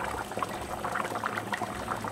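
A vegetable curry of cauliflower, butternut squash and sweet potato boils furiously in a pot, giving a continuous close bubbling and popping.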